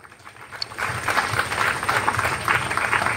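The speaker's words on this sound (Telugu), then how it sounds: "గట్టిగా చప్పట్లో." A church congregation at a rosary month closing celebration claps loudly, the applause swelling quickly after a quiet start into sustained, dense clapping.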